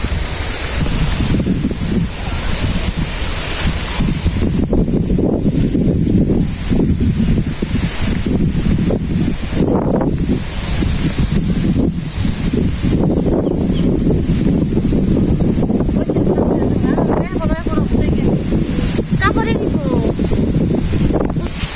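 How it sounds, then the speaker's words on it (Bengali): Strong wind buffets the microphone over lapping river waves in a rural village setting, a continuous loud roar with a person talking intermittently through it. "নদীতে ডে উঠছে বাতাসে"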